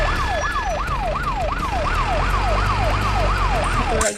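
A toy tow truck sounds its siren, a loud, close electronic wail that sweeps up and down in quick regular cycles before cutting off abruptly at the end.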